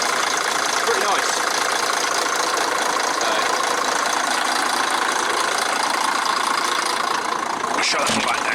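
The 9.6 litre turbocharged Volvo engine of an old coach idles at close range, giving a continuous, even rumble with a faint knocking texture. A brief sharp noise cuts in near the end.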